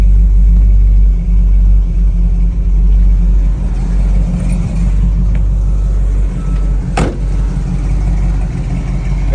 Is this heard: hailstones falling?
no